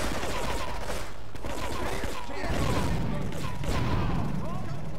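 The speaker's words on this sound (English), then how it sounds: "Second I get out, they're gonna start shooting." Heavy gunfire rattles through a GTA 3 shootout, loud, continuous bursts of automatic shots with booming impacts layered throughout, and a voice talking over the chaos.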